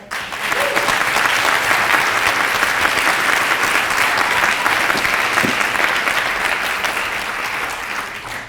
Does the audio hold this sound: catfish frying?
no